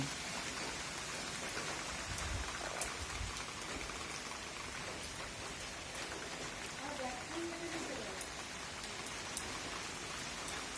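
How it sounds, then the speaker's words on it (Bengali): Dense, steady patter of rain during a storm with strong wind, a broad wash of rushing noise, continuous and fairly close, with faint scattered drips and bumps throughout. "বৃষ্টিটা কমে গেছে কিন্তু ঝড় হচ্ছে"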